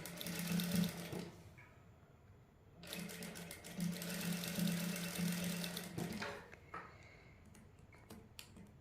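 A sewing machine stitches lace onto a garment sleeve in two close, steady whirring bursts separated by a short pause, followed by softer handling clicks and rustles.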